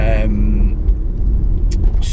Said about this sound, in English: You can probably hear that there is a whirring noise. That is the differential bearing